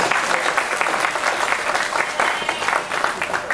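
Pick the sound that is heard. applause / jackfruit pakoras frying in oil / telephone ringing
applause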